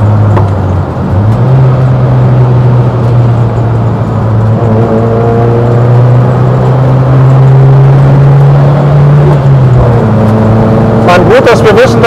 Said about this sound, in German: Sind zwar nur 75 PS, dennoch zieht der gute Iltis ganz schön durch.